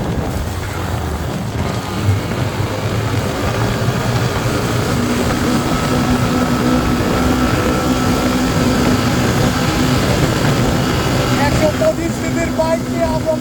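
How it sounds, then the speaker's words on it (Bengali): A motorcycle engine drones loudly and steadily as the bike climbs a steep mountain road in Bandarban during monsoon season, holding a continuous low-gear labor throughout. "আগেরবার মাইক গ্লিজ হওয়ার কারণে ইঞ্জিনের সাউন্ড প্রপারলি বোঝা যাচ্ছিল না। সো এখন শুনুন ক্লিয়ার সাউন্ড।"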